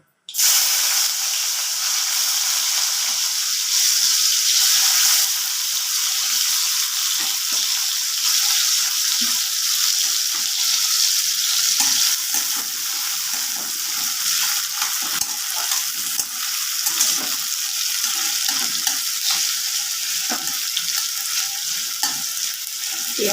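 Onion frying in hot oil in a home kitchen, a loud steady sizzle and hiss running the whole time with occasional stirring scrapes, close and continuous with no talking.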